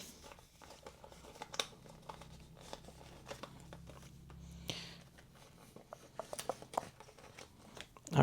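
Paper banknotes shuffled between cash envelopes, giving soft crinkling and rustling with scattered small crisp handling noises at low volume.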